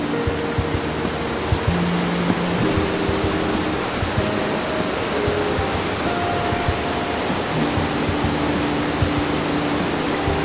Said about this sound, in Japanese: こんな感じでちょっと滝が流れてて、いい映像が撮れます。